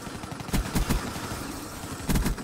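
Gunfire in the Black Ops 3 video game, a few quick bursts of muffled shots in two clusters, moderately quiet against a busy game background.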